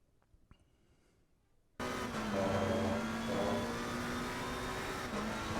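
A race car engine in Assetto Corsa Competizione comes in abruptly after a near-silent start and holds a loud, steady, droning hum under acceleration for the rest of the clip.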